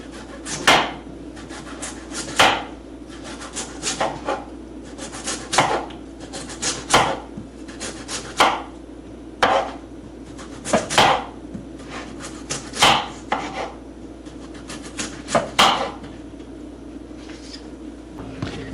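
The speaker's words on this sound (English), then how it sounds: "I may be chopping up too many potatoes." Repeated knife chops through potatoes on a cutting board, sharp knocks landing every second or so, steady and close, over a low background hum.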